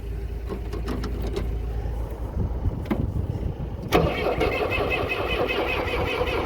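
Cold Cummins diesel engine cranking before corn harvest, a rough churning start with several clicks before it catches around the middle and settles into a loud steady idle.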